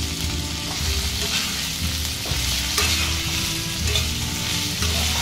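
Chopped tomatoes fry and sizzle in a pan for a raw banana kofta dish, with continuous crackling under repeated stirring scrapes, close and fairly loud.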